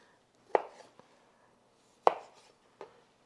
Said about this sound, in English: I don't like struggling with chopping tomatoes up.